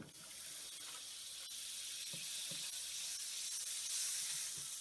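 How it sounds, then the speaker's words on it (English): Butter melting in a hot pan before onions go in for a vegetable pasta sauce, giving a steady soft sizzle and hiss throughout, with a few faint clinks over it and no voices. "Let the butter melt."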